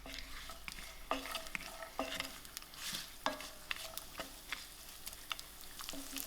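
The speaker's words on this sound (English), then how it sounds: "Now my mustard seeds are popping, so I'm ready to put in my nuts and raisins." Mustard seeds popping with nuts and raisins sizzling in a pan while making coconut rice: a steady broadband hiss broken by sharp, irregular crackles and pops at close range, with no voices.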